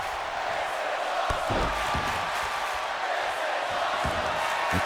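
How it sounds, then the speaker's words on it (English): Steady roar of an arena crowd cheering in the WWE 2K24 wrestling video game, a dense, continuous wash of noise with faint thuds underneath. "the crowd is loving it."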